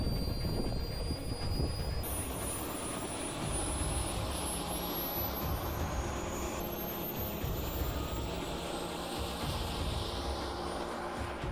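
Jet-powered car accelerating on a record attempt with a run-up of about 300 metres to the timing gates, a loud, steady roar with a high whine that rises over roughly eleven seconds, no voices.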